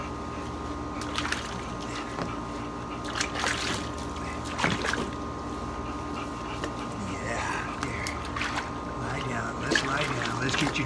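Running water trickles and splashes steadily while a bulldog gets a bath, with a voice talking softly and coaxing over the continuous wash.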